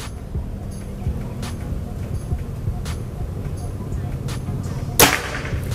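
A single sharp crack from a PCP air rifle rings out near the end, standing out briefly above a steady rumbling background.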